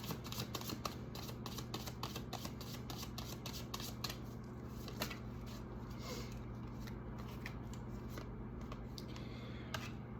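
Steady papery riffling and soft slaps of tarot cards being shuffled, repeated in quick bursts against a low constant hum, no voices.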